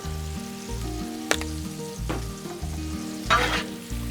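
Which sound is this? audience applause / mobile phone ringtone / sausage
sausage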